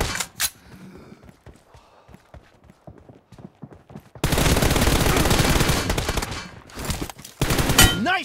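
Bursts of PUBG gunfire, with scattered single shots and clattering thuds early on, then a long, loud, dense volley of automatic fire, a brief pause, and another heavy burst.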